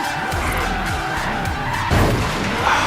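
Tires squeal loudly as a car drifts in Forza Horizon 3, engine roaring underneath, with a sudden louder screech burst near the end.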